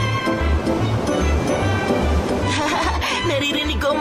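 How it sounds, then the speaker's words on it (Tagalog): Sea waves wash onto a sandy beach in a Doraemon cartoon, a steady surf wash under a rhythmic musical pulse, with light laughter-like voices near the end. "Naririnig ko ang mga alon at nakikita ko ang walang katapusang dagat."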